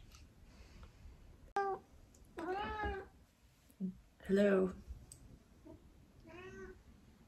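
A pet cat meows indoors three or four times, drawn-out and fairly close, with a short sharp click and a person talking softly between the cries.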